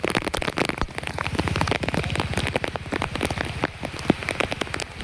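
Heavy rain pelts a surface nearby, a dense, steady patter of countless drops with no voices.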